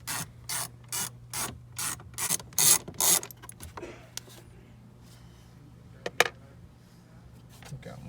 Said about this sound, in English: Got one screw out.